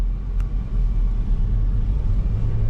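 A 2016 Perodua Myvi 1.5 SE facelift automatic on a test drive, with a steady low cabin rumble of the engine and road noise, heard from inside and without speech.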